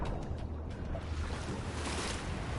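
Swimming through water in the Wolfenstein game: a steady, close wash of churning water and surf-like swishing with a low rumble, continuous and fairly loud throughout with no talk.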